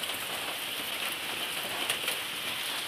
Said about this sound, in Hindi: देखिए बारिश हो रहा है नीचे